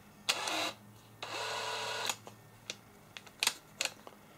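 A 25mm flat wood bit is fitted into the chuck of a DeWalt DCD996 cordless drill, giving bursts of ratcheting chuck whirring followed by several sharp, close clicks and taps, no talking.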